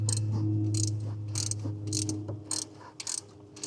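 Ratchet tightening the water pump bolts on a Chevy 6.2L engine, several quick bursts of clicking pawl strokes in a repeating rhythm, close and crisp over a low steady hum.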